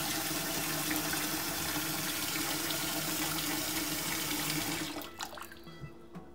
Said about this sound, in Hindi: अब हम इसमें गर्म पानी डालेंगे।